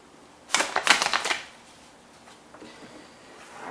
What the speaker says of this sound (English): let's start shuffling here